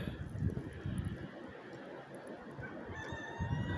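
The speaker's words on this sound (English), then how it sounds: "I hear you, chicken." Chickens cluck and squawk faintly from a distance during an Upper Peninsula snowstorm, a few scattered calls over a soft wind hiss.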